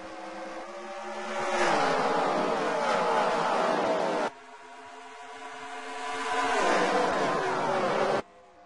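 NASCAR Camping World Truck Series trucks racing at Talladega, two loud engine roars swelling as the packs sweep past in succession, each cutting off sharply, with a commentator's voice faintly underneath.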